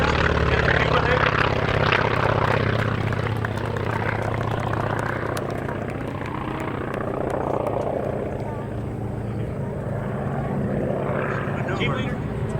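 An aircraft at an airshow flying the Cuban 8 maneuver, its engine roaring loud and sustained throughout, with crowd or announcer voices mixed in.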